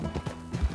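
Horse hooves clip-clop in the Red Dead Redemption 2 video game, a couple of close, fairly loud footfalls on a short burst with no talk over them.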